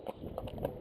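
Hooves of a cob horse trotting up a small mound, three dull rhythmic thuds at an even beat, close and moderately loud with no talking.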